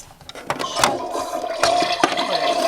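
A toy toilet on a 2023 Barbie Dreamhouse plays a short electronic flushing effect, a bright watery swirl with a tonal hum, heard close and loud with clicks as the toy is handled.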